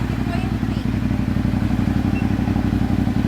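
Motorcycle fitted with a GP oneCrabon exhaust held steady at 2,500 RPM, a loud, even, throbbing exhaust drone close by with a regular pulsing rhythm and no talking over it.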